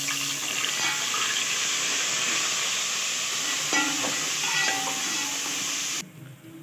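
Whole spices frying in oil with ginger-garlic paste, a strong steady sizzle with spoon scrapes that cuts off near the end.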